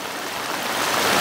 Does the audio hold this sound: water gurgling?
yes